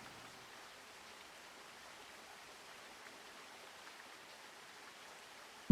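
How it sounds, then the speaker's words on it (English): Steady, soft broadband rush of running water in the video game Cryptmaster, a continuous quiet flow without voices throughout. "Because it's running water, you hear the water, and the water can run."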